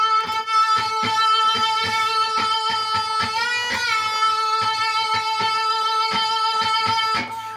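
Electric guitar notes struck repeatedly, a string given a full bend upward and held with wavering vibrato, clear and moderately loud with no speech.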